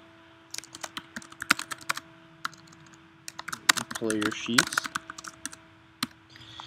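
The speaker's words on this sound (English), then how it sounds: "I'm going to start typing out" Rapid, uneven clatter of keys on a computer keyboard, close and crisp, in short bursts with pauses, while a voice speaks briefly in the middle.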